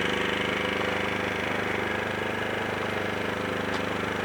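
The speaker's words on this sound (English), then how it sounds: "This is the backside where the exhaust is. So a little louder back here" A Powersmart 2500 watt inverter generator runs steadily, heard from the exhaust side: an even, close mechanical drone with a fine rapid engine pulse and no change in pitch or loudness.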